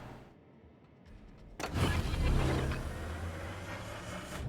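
A destroyer's engine boost kicks in during a naval video game, a sudden surge of rising mechanical whir and rumble that stays loud and sustained after a quieter start.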